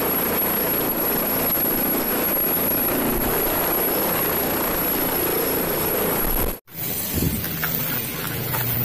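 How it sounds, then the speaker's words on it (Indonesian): A military attack helicopter's loud, steady rotor and engine roar fills the air nearby, then cuts off abruptly before a quieter stretch of outdoor background noise. "Wih, helikopter serbu lagi"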